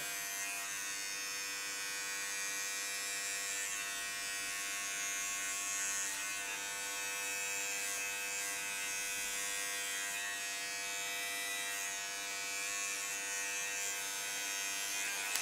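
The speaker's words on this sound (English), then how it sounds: "So something you can do is you can go crisscross in this area, and this will make it cleaner." Electric hair clippers cutting hair during a haircut, a steady, close, even motor buzz that runs unbroken with only slight shifts in pitch as the blade moves.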